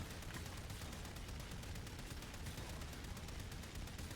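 A Cyte-09 weapon fires in rapid, continuous bursts during Warframe gameplay, a dense, quiet crackle of overlapping shots with no talk.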